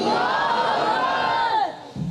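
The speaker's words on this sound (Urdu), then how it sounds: "بلند آواز سے نعرہ لگائیے، نعرہ تکبیر۔" A large crowd at a religious gathering in Pakistan shouts a loud, sustained Takbir slogan in unison, a dense roar of many voices that holds steady and then fades toward the end.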